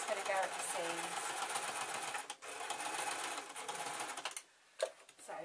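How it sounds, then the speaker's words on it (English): A sewing machine reverse stitches the seams of a cloth juggling bean bag filled with rice, running in a steady fast whir with brief pauses, heard close under some talk. "I'm reverse stitching it again, because if it goes anywhere it's going to go at the seams"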